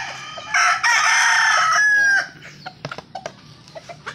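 A seven-month-old gamecock stag rooster crows once, loud and close, in a backyard, then scattered clucks and small knocks follow.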